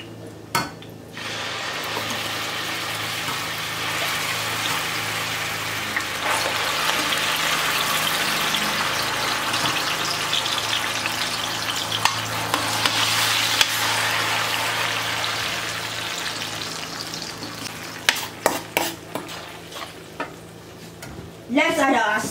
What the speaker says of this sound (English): Now I'm going to add my blended pepper.